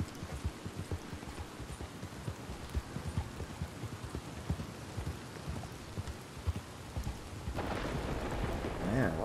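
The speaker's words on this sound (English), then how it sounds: "Man, what a storm." Steady rain and a low thunderstorm rumble in Red Dead Redemption II, with horse hooves clopping through the wet ground, the downpour swelling louder near the end.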